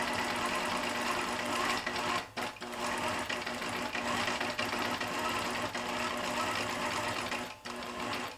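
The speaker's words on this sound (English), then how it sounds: "now I'm going to stitch, but I'm going to move my dial to my regulated stitching, and I'm going to stitch around this motif" A sewing machine set to regulated stitching runs steadily as it stitches around a motif, a continuous close whirring hum with two brief pauses before resuming.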